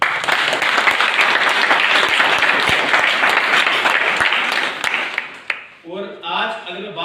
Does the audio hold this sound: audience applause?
yes